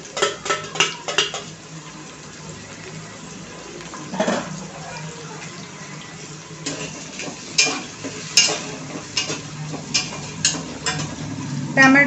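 Tomatoes sautéing in a pan for a chickpea rice dish, with a soft sizzle beneath loud repeated spoon-on-pan scrapes and clinks, busiest near the start and end.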